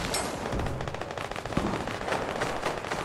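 Gunfire in Fortnite crackles in quick repeated shots, a steady rattling run of reports heard at moderate distance throughout, fairly faint overall and without voices on top.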